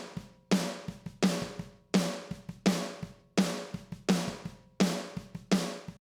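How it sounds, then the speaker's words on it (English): A layered snare drum sample in a song mix cracks in a steady rhythm roughly every 0.7 seconds, each hit loud with a bright, noisy tail over ringing tonal backing and light percussion in between. "it's bringing in this other snare drum hit"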